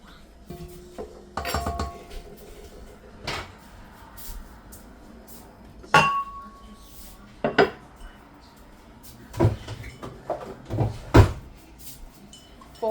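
Dry bread dough ingredients, including salt, mixed in a bowl for a sourdough sandwich loaf, giving scattered clinks and scrapes of a utensil against the bowl, with sharper knocks bunched toward the end, no talking.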